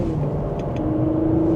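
Engine of a 2026 Porsche Macan S running, a steady low rumble and hum heard from the cabin, close and even throughout with no voices.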